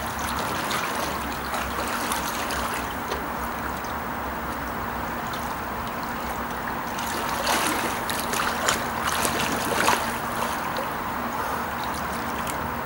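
Continuous rushing, bubbling water movement around a diver swimming underwater, steady and close, with slightly busier splashing and gurgling near the end.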